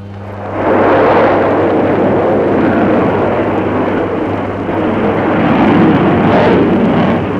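The Friendship 7 rocket launch gives a loud, continuous rumbling roar that swells in within the first second and holds steady and dense throughout, with no voices over it.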